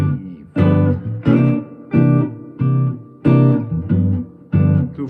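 Guitar chords strummed in a steady rhythm of about eight evenly spaced strokes, a jazz-blues progression that returns to a repeated diminished chord, played alone with no talk.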